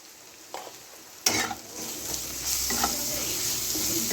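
Spice paste for katla fish curry fries in hot oil, a soft sizzle that jumps louder as ingredients hit the pan, with scraping stirs and a steady hiss building underneath.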